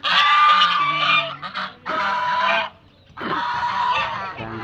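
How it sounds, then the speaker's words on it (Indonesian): Muscovy duck in a rice field giving loud, close, harsh honking calls in three long drawn-out bursts separated by short pauses. "Nah ini entok guys. Entok."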